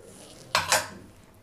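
Cornflour being stirred into a sooji pudding mixture in a pot, two quick clinking scrapes of a spoon against the pot, close and fairly crisp against a quiet background.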